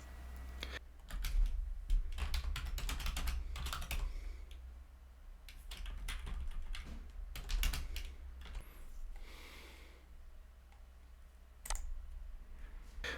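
Bursts of computer keyboard typing as a command is entered, quick clusters of key clicks separated by short pauses, close and fairly quiet, with no talking.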